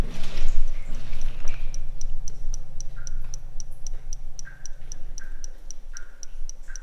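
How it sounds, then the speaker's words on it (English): Inside the old Victoria Tunnel, a steady clock-like ticking repeats at an even, quick rhythm, sharp and clear over a low background hum, with faint knocking sounds and no talking. "That ticking noise is so peculiar."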